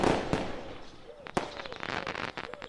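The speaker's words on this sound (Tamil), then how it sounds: "பட்டாசு சத்தம் காது கிழியுது" Firecrackers burst in sharp, loud cracks, a few big bangs among scattered smaller pops, with voices talking faintly in between.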